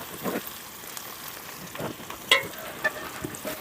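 Ginger and garlic sizzle in oil for potato mutton sukka, a quiet frying hiss broken by a few sharp crackles and stirring clinks, with no talking.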